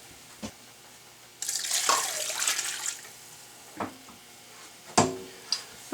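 Water gushes from a kitchen tap for about a second and a half, close and fairly loud, followed by a few clunks and knocks of kitchenware.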